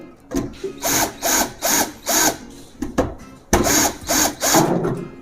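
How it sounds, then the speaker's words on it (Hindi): Screws are loosened on the terminals of a Shakti all-in-one 400 amp welding machine, heard as repeated close, raspy turning bursts in a steady rhythm, alone with no voice. "ये जो इसमें आपको स्क्रू शायद दिखाई ना दें, तो इनको मैं थोड़ा लूज कर लेता हूँ।"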